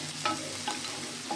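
Halved onion sautéing in a pan for Tamil-style poori masal, cooked with little oil: a soft, steady sizzle with a few brief stirring scrapes, close by and without speech.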